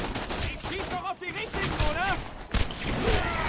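Rapid gunfire from the shooter game Borderlands 2 crackles in bursts throughout, mixed with in-game effects while someone talks over it.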